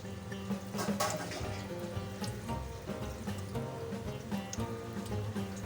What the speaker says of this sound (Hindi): जैसे जैसे हम इसे पानी बदल बदल कर वॉश करते जाएंगे